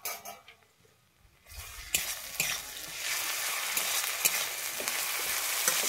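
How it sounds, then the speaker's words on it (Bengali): Ginger garlic paste hits hot oil over browned onions in a pan, a quiet start giving way to a loud, steady sizzle with occasional clinks of a stirring spoon. "আমি এর মধ্যে দিয়ে দিচ্ছি 1 চামচ আদা রসুন পেস্ট"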